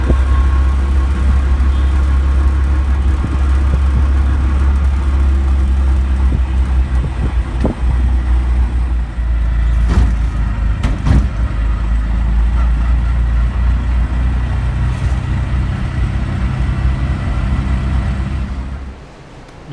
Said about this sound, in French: je trouve le rickshaw, direction Arambol